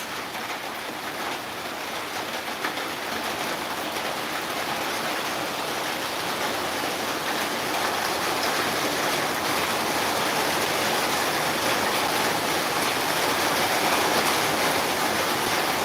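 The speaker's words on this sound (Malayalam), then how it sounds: "ഇവിടെ നല്ല മഴയുണ്ട്" Heavy rain pours in a dense, steady roar of hiss and splatter, loud and close, holding constant without a break and with no voices.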